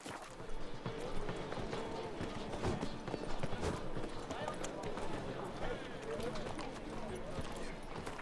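Geralt's horse Roach gallops in The Witcher 3, a quick drumming of hooves running throughout, loud and close, blended into dense game sound with other noise layered over it.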